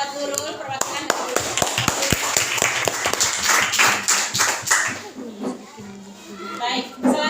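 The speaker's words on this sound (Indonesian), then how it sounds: "Tepuk tangan buat Nurul" A classroom claps for a student named Nurul: a burst of scattered, uneven hand claps from a group, fading after a few seconds while a voice talks over and after them.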